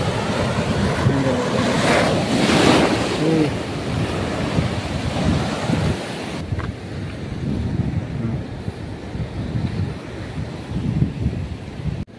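Waves and surf break along a rocky shoreline in rough, choppy water, a steady broadband wash with wind buffeting the microphone, louder in the first half and easing slightly afterward, with no talking.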